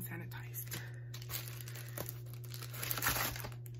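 Crinkling plastic and paper tearing as an Ulta package is opened, with scattered rustles and crunches over a steady low hum.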